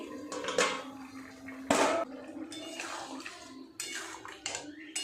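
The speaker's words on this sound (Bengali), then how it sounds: "এবারে একটু ঢাকাটা খুলে দেখি" A lid lifted off a pot of simmering jackfruit and prawn curry with potatoes, giving a few metallic clanks and scrapes, one sharp knock in the middle and softer clinks later, over a faint bubbling background.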